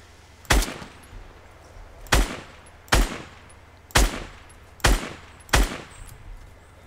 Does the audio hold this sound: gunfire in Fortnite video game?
yes